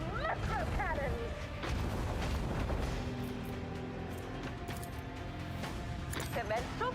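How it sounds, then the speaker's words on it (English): Macro cannons on a starship firing in the space battle of Warhammer 40k: Rogue Trader, with heavy booms and crashes rolling under a voice that speaks throughout, plus swooping tonal effects. "Commence the symphony of macro cannons!"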